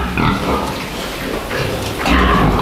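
Young pigs on a farm give low, rough grunts and snorts in uneven bursts, fairly close and loud, with a short spell of louder grunting toward the end.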